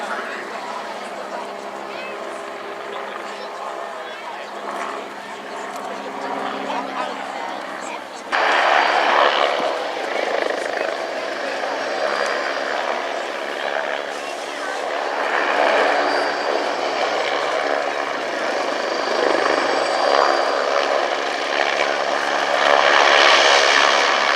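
An AgustaWestland A109E Power helicopter flies at an airshow, a steady loud rotor and engine roar that swells partway through and holds, with an announcer talking over it throughout.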